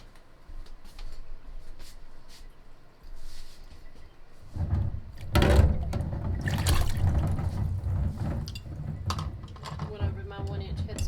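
Sloppy joe mix is spooned into a glass canning jar during home canning: after a quiet start, close, fairly loud wet scrapes, plops and clinks of a spoon against the jar.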